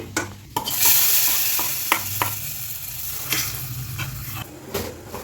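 Oil sizzles steadily in a hot pan as spices and chilli powder are tempered for a curry, while a spoon stirs and scrapes, with sharp clinks of utensil against metal scattered throughout.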